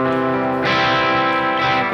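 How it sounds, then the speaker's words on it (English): Electric guitar through a Neural DSP Plini amp sim, humbucker pickup, set to an edge-of-breakup tone with slight distortion; a sustained strummed chord rings loud and steady, then a second chord is struck and held alone. "It's a little bit of an edge of breakup tone, especially if I'm playing with the humbucker."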